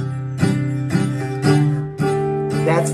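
Beginner acoustic guitar chords strummed downward, four or five strums in a steady rhythm, close and loud, with a slightly dull, muddy ring as if the strings are not fully pressed.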